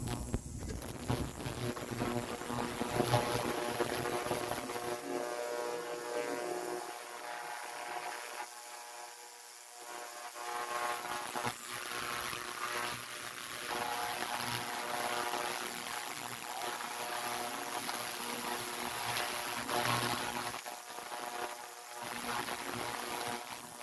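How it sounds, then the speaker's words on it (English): An ultrasonic cleaner runs with fuel injectors inside, giving off a continuous hissing, buzzing drone with shifting tones that stays fairly loud throughout. "It's making that noise you hear,"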